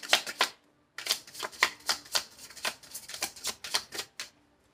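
Tarot cards being shuffled and drawn at close range, a rapid run of riffling flutters and soft slaps, with a brief pause before the shuffling resumes steadily, no voice heard.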